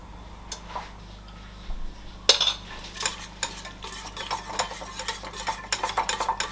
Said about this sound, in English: So we need to mix all the things in the yogurt.